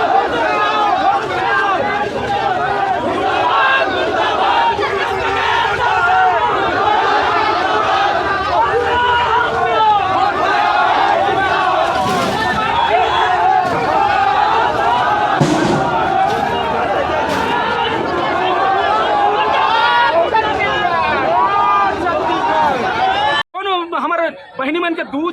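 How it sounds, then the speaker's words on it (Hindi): Dense, continuous roar of a large agitated crowd at a Kranti Sena protest rally, with overlapping shouting and babble held loud and steady throughout before cutting out abruptly near the end. "आप मन देख सकत हो कितना मात्रा में भीड़ हाँ मौजूद हवे।"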